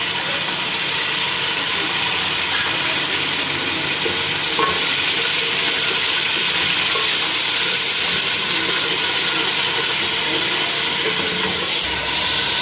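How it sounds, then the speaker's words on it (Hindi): Garlic-ginger paste sizzles loudly with spices in hot oil for a pulao masala, a dense continuous hiss with faint stirring underneath, steady and close throughout, with no talk. "और अब ये जो 3 टेबल स्पून लहसुन अदरक का पेस्ट हम डाल रहे हैं"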